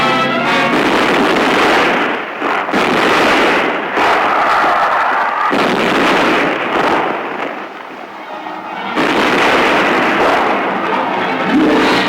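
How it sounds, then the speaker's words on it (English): A US Navy battleship fires its 14- and 16-inch guns in a bombardment of Japan, producing a sustained, loud roar of heavy blasts with rumbling broadband noise that swells and fades over several seconds, with no voices. "The naval bombardment of Japan begins."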